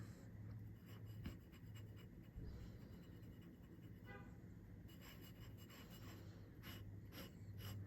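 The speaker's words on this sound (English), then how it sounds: "like fine or extra fine fountain pen to swatch them out like this" A fine fountain pen nib scratches softly across paper while swatching yellow ink, faint close strokes in irregular runs with short pauses.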